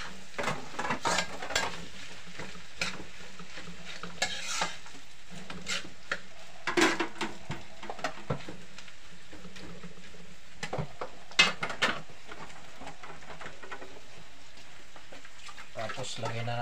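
Plates clink and clatter faintly nearby as dishes are washed in a home kitchen, with scattered taps and scraping under a quiet background while someone talks.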